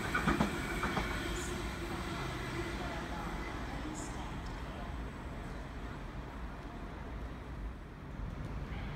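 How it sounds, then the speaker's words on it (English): A passenger train rushes past on the track near a Burwood station, a steady broadband rumble with rail clatter holding throughout at moderate, fairly close level. "Here we got a train flying past."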